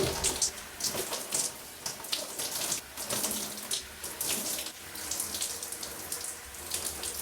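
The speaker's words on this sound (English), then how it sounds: "let's go ahead and wet my hair. As always, we're going to be using warm water" Warm water runs steadily from a tap onto hair being wetted on wash day, a close, continuous splashing hiss with irregular spatters as the stream hits the hair.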